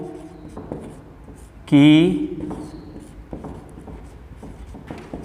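A teacher writes numbers on a board during a maths lesson, leaving soft scratchy strokes and taps. A brief spoken word breaks in partway through.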